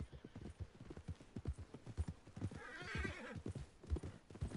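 Horse hooves clip-clop in a steady walking rhythm in the Red Dead Redemption 2 video game, with a whinny rising partway through, moderately close and fairly quiet.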